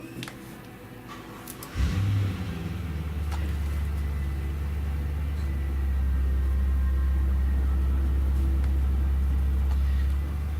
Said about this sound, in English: So if that's a noise that you can hear, it's a car.